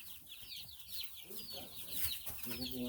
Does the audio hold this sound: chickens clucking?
yes